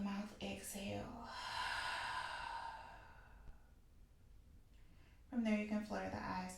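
A long, breathy open-mouth exhale during a gentle beginner yoga session, a soft airy rush that trails off into near silence, with a voice talking before and after it.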